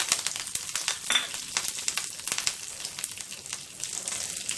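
Curry leaves and asafoetida fry in a pan with mustard seeds and cumin while making a carrot potato fry, giving a soft continuous sizzle broken by small crackles and pops, close and fairly quiet.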